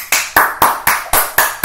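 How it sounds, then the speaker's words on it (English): Hands clap in a quick steady run of about seven sharp, close claps at the wrap-up of a couch-talk podcast episode, with no talk over them. "Episode 24, give some claps."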